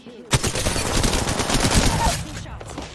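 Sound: gunshots in the video game Apex Legends

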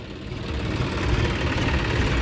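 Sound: John Deere 5050D tractor engine running

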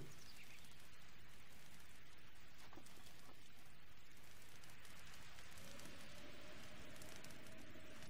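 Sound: rain in the video game Breath of the Wild

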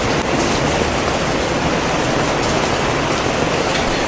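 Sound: heavy rain at night in Delhi

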